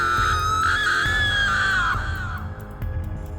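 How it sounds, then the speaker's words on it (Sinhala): A young woman's long, loud scream for a horror story, one sustained shriek that slides downward in pitch over about two and a half seconds, then breaks off into a low rumbling background. "තරුණියක් කෑ ගහන හඬ ඇහෙනවා"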